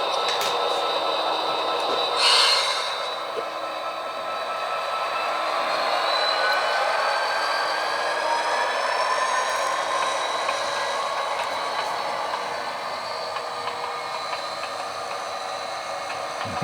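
GE Dash 9 locomotives roll slowly while being moved to park, giving a steady mechanical rumble with squealing wheel and metal tones and a brief louder hiss partway through.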